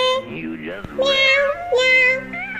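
A high, whiny human voice imitates a cat, drawing out several close, loud meow-like cries that rise and fall.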